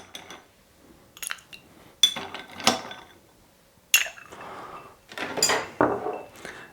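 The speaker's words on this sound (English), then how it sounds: "we just have to add a couple cubes of ice" Ice cubes dropped into an Old Fashioned glass: several bright clinks and rattles of ice striking glass in uneven bursts, close and clear, with quiet gaps between.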